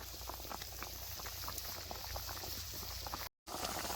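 A hilsa fish curry bubbles over a raised flame, producing a steady, close boiling burble that is broken by a brief silent gap.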